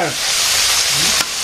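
Small puti fish frying in hot oil in a Bangladeshi village kitchen, a loud steady hiss of sizzling close by, unbroken, with a brief click near the end.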